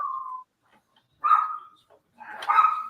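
A small dog barks at home, three sharp high yips spaced by short silences, fairly close and moderately loud, with no talking.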